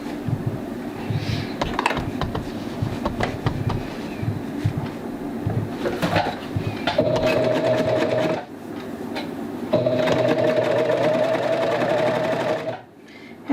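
A serger runs on knit fabric while its cutter knife trims the edge, giving bursts of fast rattling stitching separated by brief pauses and light handling clatter, close and loud, with a thin whine during the longer runs.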